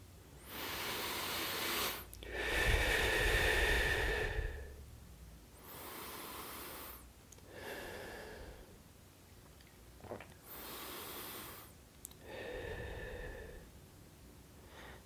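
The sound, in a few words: slow conscious breathing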